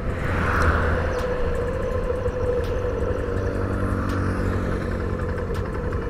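A 2022 Hero Passion Xtec motorcycle engine running slowly in gear without throttle, a steady, loud, close mechanical thrum with light clatter and faint ticks, heard without talk.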